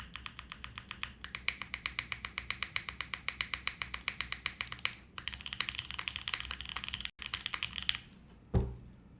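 Fast, steady typing on a HEX4B mechanical keyboard, with dense close key clacks in an even rhythm, a brief pause, then a final louder knock.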